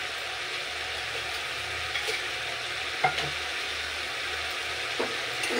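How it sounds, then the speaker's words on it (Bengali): Masala spice paste frying with a splash of water for a vegetarian Bengali stuffed kakrol dish, a steady close sizzle with a few soft stirring knocks and scrapes, no talk. "অল্প সামান্য জল দিয়ে এবার মশলাটাকে একটু ভালো করে কষিয়ে নেব"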